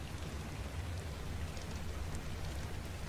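Freezing rain in the video game Ark Survival, a dense, even hiss of falling rain that runs steadily and softly throughout with no other sounds.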